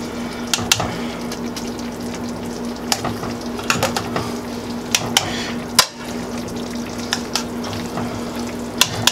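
Meatballs sizzling in a pot of marinara and being lifted out with tongs, a steady close frying hiss punctuated by sharp metallic clicks and clacks of the tongs, without any talking.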